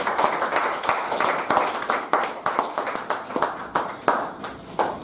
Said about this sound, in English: Can you all give a full round of applause to all the role players, speakers, and the audience today?